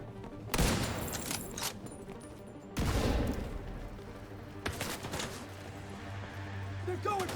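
Gunfire in The Division 2 video game with a cowboy build using a Dodge City Gunslingers holster, loud bursts of shots with echoing tails spread across the clip, while someone talks over the action.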